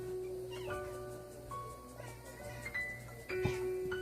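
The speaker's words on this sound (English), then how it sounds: "Ooh, there's a kitty." A cat meows several times close by in a quiet setting, with short, drawn-out calls spread across a few seconds and no talking.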